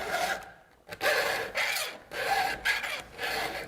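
A hand file rasps against a chainsaw chain held in a sharpener guide, making about four firm, close strokes separated by short quiet gaps.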